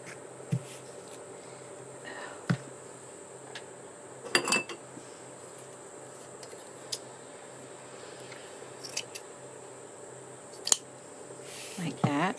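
Scissors cutting lace trim in half, a few sparse, close snips and clicks spaced seconds apart, with a brief cluster of rustling handling in the middle, over a quiet steady room hum.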